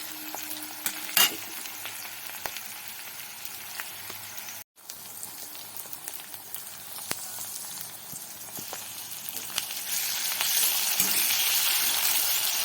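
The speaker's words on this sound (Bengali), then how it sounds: "পেঁয়াজ কুচিগুলো লাল লাল করে ভাজা ভাজা হয়ে গেলে এবারে দিয়ে দেব রসুন লঙ্কার পেস্ট" Chopped onions fry in oil with garlic and chili paste for a Bengali prawn and taro-stolon dish, giving a steady close sizzle with occasional stirring clatter that grows louder toward the end, with no talking.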